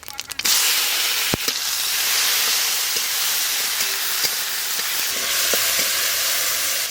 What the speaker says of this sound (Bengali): সর্ষের তেল, ভেজ ডালের জন্য ফোড়নে গোটা জিরে, শুকনো লঙ্কা, তেজপাতা দিয়ে দেব।